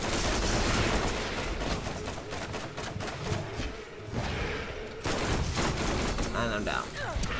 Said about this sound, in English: I'm shooting Marley as much as I can all around